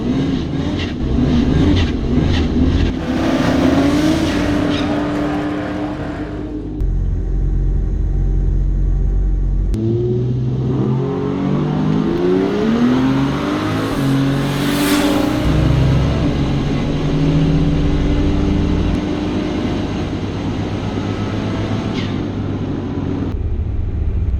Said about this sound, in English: it's Benny's turn for his second run of the day